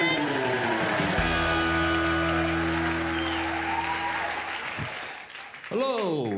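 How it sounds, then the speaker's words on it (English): Stand-up comedy crowd applauds and cheers as a comedian is introduced, a loud, sustained wash of clapping under a blaring musical sting, tapering off before the performer starts talking. "please clap your hands and go nuts for Lloyd Langford!"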